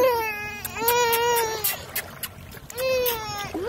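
A young child cries loudly near the microphone at a beach, wailing sobs in two long rising bursts with short gasps between, while water splashes and an adult voice talks quietly underneath.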